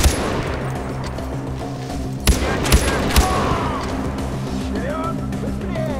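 Gunfire in the Far Cry 4 video game: a few sharp shots ring out over a steady low background hum.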